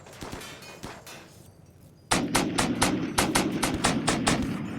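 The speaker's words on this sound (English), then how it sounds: "Oh, it's auto cannon." A Rimworld autocannon fires a steady series of loud, evenly spaced heavy shots, preceded by a few quieter, scattered shots.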